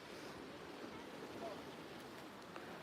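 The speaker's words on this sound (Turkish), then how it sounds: "Bakın Atlantik Denizi burası" Atlantic Ocean surf and wind at a coastal lookout, a steady broadband wash of breaking waves and gusts that holds at an even level throughout.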